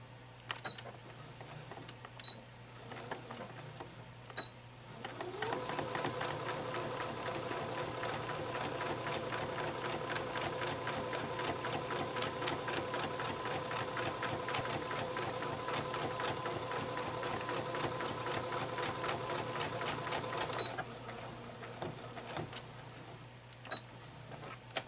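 A sewing machine stitches a fabric face mask in one long, steady run of rapid, even mechanical chatter, with quieter handling and clicks before and after.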